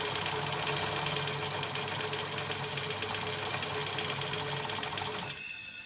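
A sewing machine stitches the top of a homemade scrubs hat, its steady fast mechanical whir running loud and close for about five seconds before stopping abruptly near the end.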